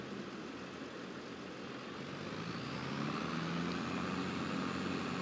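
Steady engine drone of a new tractor in the video game Farming Simulator 22, a loud continuous hum that swells slightly halfway through, with no talking.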